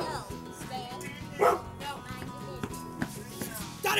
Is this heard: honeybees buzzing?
no